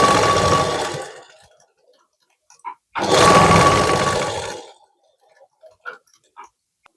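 A sewing machine stitches net cloth for a blouse back-neck scallop design, running in two loud bursts of about one and a half seconds each, split by a pause and followed by scattered faint clicks and handling noises.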